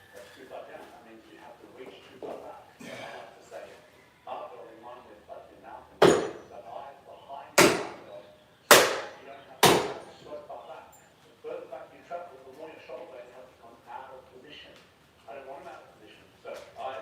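Several sharp, loud hammer blows strike and break something, four spaced impacts in the middle of the stretch, with people talking before and after.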